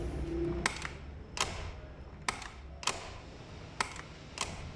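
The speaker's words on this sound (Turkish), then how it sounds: "Şöyle kapı sesi de dinletelim." A Tofaş Kartal SLX estate car has its door shut repeatedly, about six crisp thuds at regular intervals, close and fairly quiet, in a workshop.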